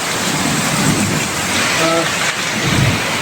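Heavy rain pours during a night thunderstorm, a dense, steady roar of rainfall filling the whole clip with no clear break.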